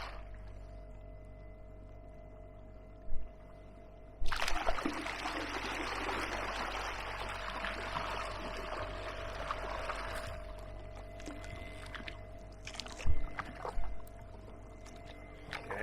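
Canoe paddling downstream on the River Medway in shallow water: steady splashing and water rush swells for several seconds in the middle, with a few sharp paddle knocks, set over continuous flowing-water noise.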